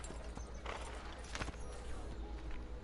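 Steady clip-clop of horse hooves in Assassin's Creed: Brotherhood over a continuous noisy background, moderately loud and unbroken throughout.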